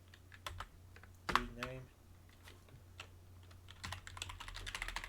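Keys clatter on a computer keyboard during a Debian 11 install, a scatter of quick irregular taps and a louder press partway through, faint under a steady hum while someone speaks briefly.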